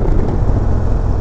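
A 2020 Indian Chieftain Limited motorcycle cruises at about 60 mph in sixth gear around 2400 RPM on the interstate, a loud, steady engine drone blended with rushing wind.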